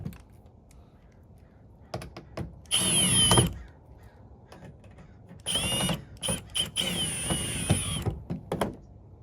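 A power drill tightens mud flap bolts on a 2022 or later Ford Maverick in two loud close bursts, a short one and then a longer stuttering run, with clicks and handling noises between them.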